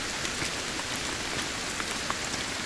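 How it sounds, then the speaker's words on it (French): Steady, dense rain hisses across the scene in the Sons of the Forest survival video game, loud and constant with scattered droplet patters and no voices. "La pluie est affreuse"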